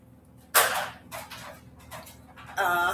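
A dog barks several times in short, separate bursts, fairly close and loud, over a low steady background hum.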